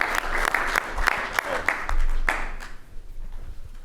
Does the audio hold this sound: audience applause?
yes